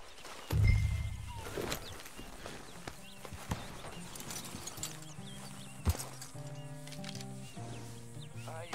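In Red Dead Redemption 2, a horse's hooves clip-clop at a slow walk near camp, the steady thuds sounding close under soft background music.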